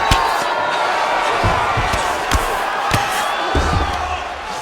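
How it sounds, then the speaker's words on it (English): Arena crowd in the EA Sports UFC 5 video game roaring and cheering steadily through a women's fight on the ground, with sharp impact thuds and slams punching through the constant crowd noise. "The crowd's going crazy because they just saw two high-level grapplers mix it up on the ground."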